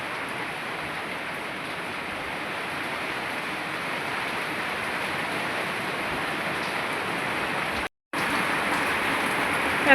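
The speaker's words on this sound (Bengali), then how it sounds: "অনেক বৃষ্টি হইতেছে।" Heavy rain pours down outside a home in a steady, dense hiss of falling water, broken only by one brief cut.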